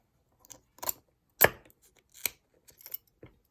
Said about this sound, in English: I can cut right through this.